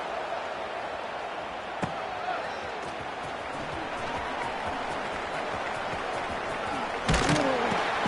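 A stadium crowd at a Stanford football game roars through a punt return, a steady broadband din that holds throughout and swells toward the end.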